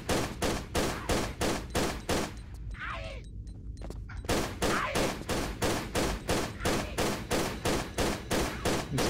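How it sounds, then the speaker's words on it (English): Rapid pistol shots ring out in a Tomb Raider Level Editor game set in a working mine, a loud, evenly spaced volley of sharp reports that pauses briefly midway before resuming the same steady rhythm. "I'm going to switch back to the pistols."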